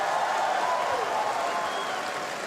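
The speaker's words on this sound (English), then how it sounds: "please, one more round of applause for that amazing Hawaiian welcome" Audience applause fills an arena at the Pokémon World Championships in Hawaii, a steady broadband wash of clapping held at an even level throughout with faint voices beneath.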